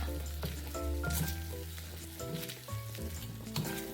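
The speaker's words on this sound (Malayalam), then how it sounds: "അപ്പം നല്ലപോലെ ഇളക്കി കൊടുക്കുക" Banana halwa with jaggery and ghee stirred in a pan, giving a steady sizzle with stirring and scraping. A tonal hum or music plays faintly underneath, and no one speaks.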